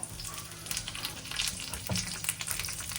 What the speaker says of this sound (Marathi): तेल छान तापू द्यायचं यात सगळ्यात आधी मी टाकेल कढीपत्ता